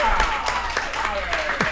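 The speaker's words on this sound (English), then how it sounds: "Give him a big round of applause." Audience applause at a live show in a pizza venue, a short burst of brisk, steady clapping heard throughout the moment over a low background hum.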